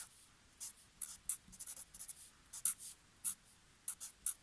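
Pen or pencil quickly sketching a triangle on paper for a math problem, a series of short, crisp scratchy strokes with brief pauses between them, close and quiet with no voice.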